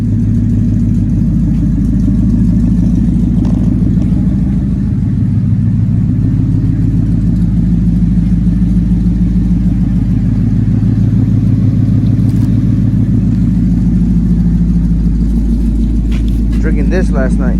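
A turbocharged 2021 Ford Mustang rumbles loud and close at a steady low drone that sounds like idling more than revving, while people talk over it.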